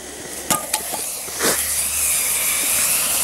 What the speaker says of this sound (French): on a déclenché le fumigène dans la même casserole où on a fait le mélange